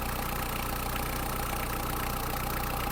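A Kubota X-20 mini tractor's small diesel engine idles steadily nearby, a continuous rattling chug with a low, even pulse and no voices.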